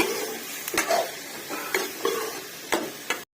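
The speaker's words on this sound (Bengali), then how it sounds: "তা চামচের সাহায্যে একটু নাড়াতে থাকলাম" Vegetables fry in oil while a spoon stirs them, with scraping strokes against the pan roughly once a second over a soft, constant sizzle, close and clear.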